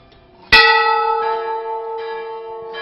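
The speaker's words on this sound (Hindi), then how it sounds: "यहां इतनी घंटियां हैं कि आप गिनते गिनते थक जाएंगे, मगर घंटियों को गिन नहीं पाएंगे।" A temple bell at the Golu Devta shrine is struck once, close and loud, and rings with a long sustained metallic hum, with fainter strikes from other bells sounding behind it.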